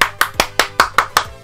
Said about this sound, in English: Can we get an applause for Kronk?